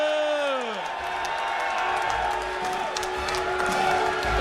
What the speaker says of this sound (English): The applause was better music than whatever he was going to do.